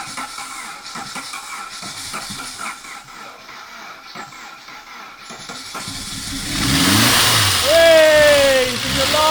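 Near the start an old Saab 900 16v Turbo engine, unused for 12 years, cranks slowly under excited talk, then catches and roars to life, settling into a rough, loud idle.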